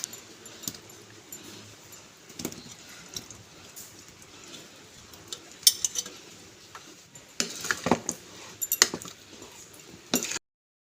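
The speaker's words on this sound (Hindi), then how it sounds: "अब मैं इसमें पनीर डाल देती हूँ।" Paneer being mixed into a spice paste with ginger and green chilli in a bowl, giving soft wet stirring and scattered utensil clinks against the bowl, close up with no talk.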